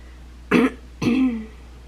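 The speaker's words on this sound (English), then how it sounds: "Please excuse my cough." Two short, harsh coughs close to the mic, about half a second apart, the second a little longer and rougher, with quiet between.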